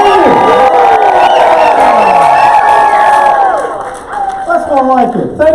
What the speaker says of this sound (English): So please, just give them a cheer as loud as you can so they can hear you.